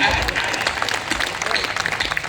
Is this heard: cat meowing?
no